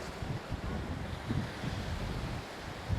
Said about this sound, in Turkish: Bu gördüğümüz yer Atlas Okyanusu. Ve iyi rüzgar var.